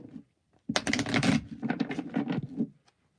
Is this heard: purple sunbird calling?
no